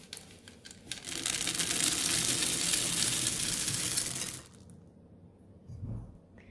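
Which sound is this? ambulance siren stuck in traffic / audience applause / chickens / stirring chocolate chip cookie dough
stirring chocolate chip cookie dough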